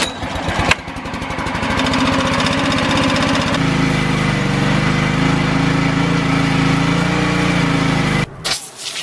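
A Honda car engine runs steadily near the mic, a continuous even drone that shifts to a lower, heavier tone partway through before cutting off abruptly near the end.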